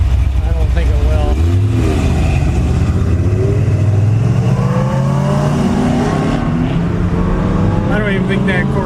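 A 1960 Pontiac with a 389 two-barrel V8 and single exhaust accelerates while cruising, its engine note rising steadily in pitch, loud and close, with other traffic around.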